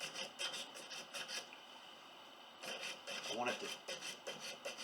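A coarse file rasping across a silver wedding ring, repeated close strokes in two bursts separated by a pause, with someone speaking briefly in between.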